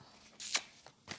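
A deck of cards is riffled in a couple of quick, crisp bursts, then falls quiet with a faint closing flutter. The shuffle sounds close and moderately loud, with no voices.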